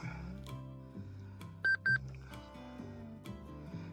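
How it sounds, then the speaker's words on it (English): A Gold Monster 1000 or GPX 6000 metal detector switches on with two quick, bright electronic beeps, heard faintly and close over low background sounds. "Okay, so turn the detector on."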